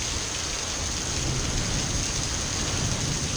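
Steady, dense rain pours down outdoors in windy weather, a continuous even wash of noise with no breaks or voices.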